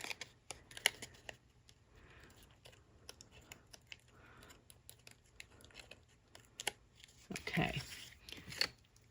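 Scissors snip cardstock free of dimensional foam adhesive while a handmade card is taken apart: faint, scattered cutting clicks and paper rustles, a louder rustling burst near the end, and one brief spoken word.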